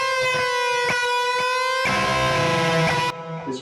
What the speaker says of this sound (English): tweaking, twanging kind of sound.